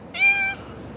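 A cat gives a single short, clear meow, close and loud, over a faint background hum.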